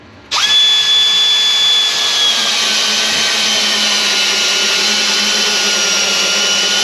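Power drill whirring steadily as it drives 2.5-inch screws into 2x4 lumber while working on a rental kitchen cabinet, starting abruptly and running continuously, loud and close.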